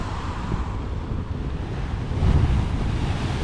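Ocean waves roll and break onto the shore at Hikkaduwa, Sri Lanka, as a continuous rushing surf mixed with wind buffeting the microphone, swelling slightly louder near the end.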